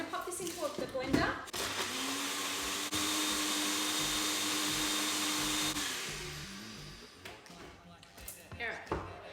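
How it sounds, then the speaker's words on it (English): A blender whirs loudly for about four seconds blending a cocktail of banana, milk and chocolate syrup, preceded and followed by clattering and brief talk nearby. "So I'm going to pop this into the blender."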